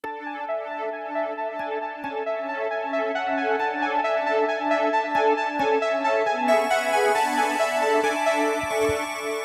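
A soloed chords bus of synth keys, arpeggios and bells plays steady sustained harmonic chords with rippling arpeggiated notes, brightening partway through as higher bell tones enter, continuous and upfront with no voices.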